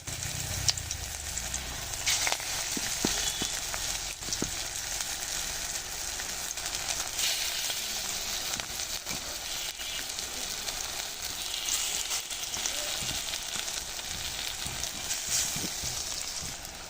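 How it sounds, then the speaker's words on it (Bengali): Thankuni leaf and lentil fritters frying in hot oil over a high flame, a constant hissing sizzle with scattered small pops and crackles, close and even in level, no speech. "ভাজছি একদম মচমচে ভাজা"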